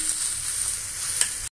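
Onion, green chilli and ginger-garlic paste sauté in a pan with a steady, close sizzle and one brief stir scrape near the end before the sound cuts off abruptly.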